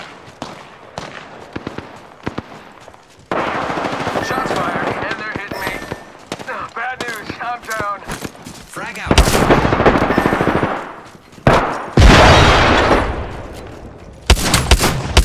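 Rapid bursts of automatic weapon fire from the Apex Legends battle royale game, loud and repeated in several volleys with brief pauses, over a busy game soundtrack and interleaved with spoken callouts.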